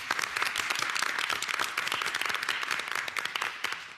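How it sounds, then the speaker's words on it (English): An audience applauds newly elected board members at a public meeting, a dense, steady clatter of many hands clapping at close range for about four seconds without letting up. "Another round of applause, guys."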